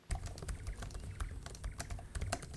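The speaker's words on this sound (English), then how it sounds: "Here is the sound of the keyboards one more time." Rapid typing on the keyboards of an ASUS ZenBook Pro Duo 15 laptop, a steady close run of soft clicky keystrokes with no talking.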